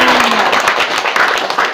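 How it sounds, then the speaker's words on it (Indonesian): A church congregation claps in a steady, close round of applause that holds at an even level throughout, with a faint voice beneath it. "Tepuk tangan."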